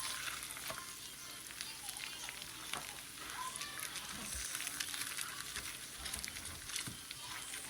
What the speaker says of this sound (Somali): Waa steak-gii isagana inta korka ku yara karkariyay